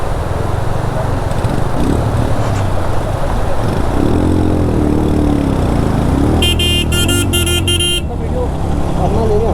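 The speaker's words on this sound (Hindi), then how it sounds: "बाइक चालू है।" A motorbike engine runs on a rough, flooded mountain road during a Kolkata-to-Ladakh ride, its low rumble steady beneath loud talking voices, with a burst of rapid horn honks partway through.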